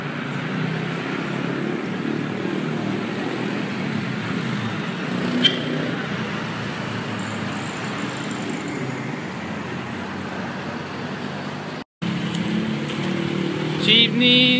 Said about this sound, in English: Jeepneys and taxis and traffic. Cebu City is pretty crazy at the moment.